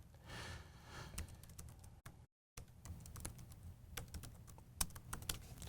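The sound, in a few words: typing on a computer keyboard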